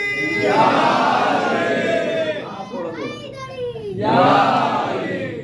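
A crowd at a religious majlis gathering shouting back the Nara-e-Haidari chant, loud massed voices surging together in two bursts with a brief dip between them.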